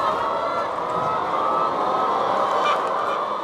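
Caged laying hens on an Australian egg farm cluck and squawk together in a dense, continuous chorus that fills the shed at a steady level.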